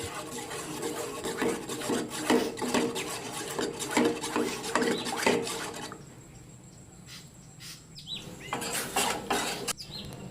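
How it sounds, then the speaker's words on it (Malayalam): Pineapple jam thickened with cornflour being stirred in a pan on the stove, a close, repeated scraping and rubbing of a spoon against the metal in an uneven rhythm, pausing briefly before resuming. "എന്നിട്ട് കൈ വിടാതെ ഇളക്കിക്കൊണ്ടേയിരിക്കണം"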